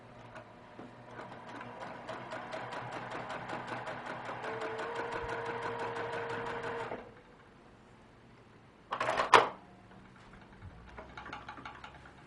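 A sewing machine stitches a row of circles on a quilt block in a fast, even run of needle ticks for several seconds, then stops, followed by a short mechanical clunk and a brief, softer burst of stitching.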